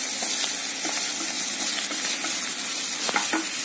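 Curry leaves frying in hot oil in a pan: a steady close sizzle with light crackles and occasional stirring scrapes, no talking.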